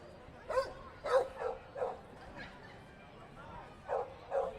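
Dogs at a dog race at Canterbury Park bark and yip in short bursts, about eight sharp calls spread unevenly over a few seconds, moderately near with faint crowd murmur beneath.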